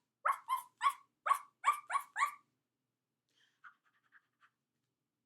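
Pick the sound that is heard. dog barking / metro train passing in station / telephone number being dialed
dog barking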